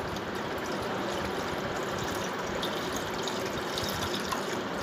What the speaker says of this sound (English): now we are going to fill this fountain with the water